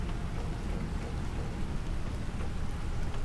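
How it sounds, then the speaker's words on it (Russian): Steady rain falls in the video game Planet Crafter, a continuous, dense hiss of drops with a deep rumbling undertone, even in level and fairly loud, with no voices. "Дождик, ура! Второй дождик на нашей планете, замечательно."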